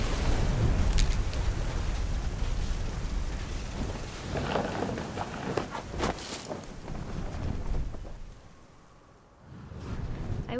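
Thunderstorm in the video game What Remains of Edith Finch: steady loud rain with rumbling thunder and sharp cracks, the storm easing briefly near the end before swelling again.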